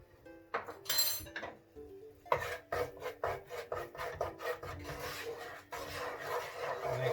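A spoon scrapes and stirs through mushroom risotto and carrots as cardamom is mixed in, a run of rhythmic rasping strokes with a few clinks against the pot, close and fairly quiet.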